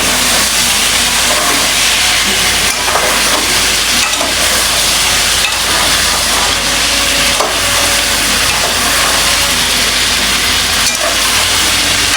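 Chicken pieces and potatoes fry in a pan, giving a loud, continuous sizzle and hiss up close, broken now and then by short scraping stirs.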